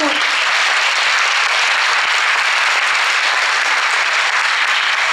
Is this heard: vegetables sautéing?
no